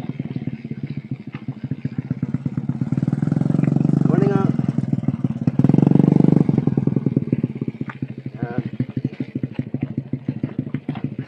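A motorcycle engine chugs nearby on a gravel trail with uneven revving and rattling, louder in the middle and easing off toward the end.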